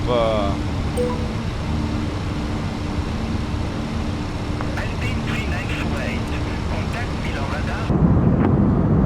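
Airbus A320 engines drone steadily during a climb in Flight Simulator 2024, a constant broad roar with faint cockpit tones and clicks, swelling louder near the end.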